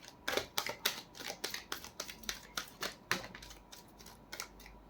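Tarot cards are shuffled by hand, a quick series of close, crisp riffling slaps and flutters coming in short irregular bursts, fairly quiet with no talk.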